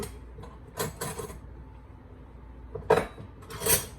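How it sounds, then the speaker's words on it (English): A spoon stirs warm elderberry syrup and honey in a pot, giving a few sparse metallic clinks and scrapes against the container, close by in a quiet kitchen. "now I'm just going to stir it"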